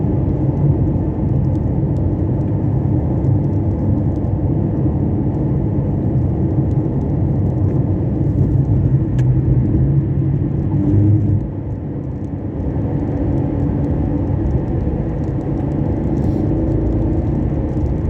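A 2014 Porsche Panamera Turbo cruises in fourth gear with a smooth, steady engine and road rumble inside the cabin, loud and unbroken, dipping slightly for a moment before holding even again.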